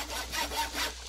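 Repairing a hammer in Minecraft gives a rough, scraping rasp like sawing or filing wood, in three or four quick rubbing strokes, moderately loud and alone.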